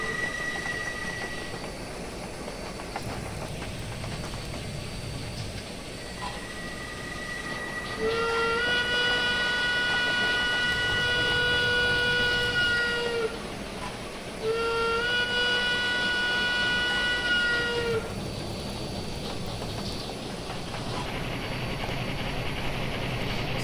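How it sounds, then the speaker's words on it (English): An AT&N 2-8-0 Consolidation steam locomotive in Train Simulator Classic rumbles steadily along, with two long, loud whistle blasts in the middle over the continuous rolling chuff and rail noise. "overall not a half bad sounding locomotive"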